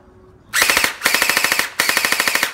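A Bing Feng MK18 gel blaster fires on full auto in three rapid bursts. Each burst is a loud, fast, even string of sharp mechanical clacks with brief pauses between bursts.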